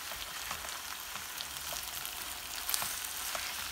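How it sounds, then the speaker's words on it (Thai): Holy basil leaves stir-frying in plain oil in a pan, a steady soft sizzle with light crackles and occasional stirring scrapes, heard alone at low volume. "จะผัดใส่น้ำมันเฉยๆนะคะไม่ปรุง"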